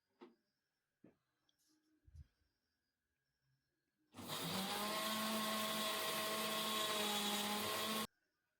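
A kitchen blender grinds whole cumin, coriander, dried chillies, ginger and garlic with a little water into a paste, starting after a few small clatters and running as a loud, steady whirring roar for about four seconds before cutting off.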